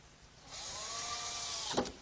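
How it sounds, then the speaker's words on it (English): A power drill drives a screw into the end of a wooden workbench, giving one short whirring burst that swells, holds briefly and cuts off with a small clack. "So a couple screws in each end."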